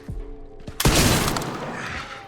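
Gunfire from infected soldiers in the video game Resident Evil Requiem: one loud, sharp blast with a long, rumbling decay, close and heard alone.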